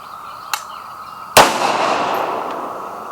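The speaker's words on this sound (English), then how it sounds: "Right after I get done shooting that 458, I'm shooting this." A .458 SOCOM rifle fires outdoors, one loud sharp report with a long rolling echo, preceded by a fainter distant pop.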